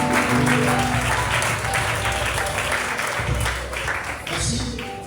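A church congregation applauds together, a dense sustained clapping that fills the room and fades slightly near the end, with voices mixed in beneath.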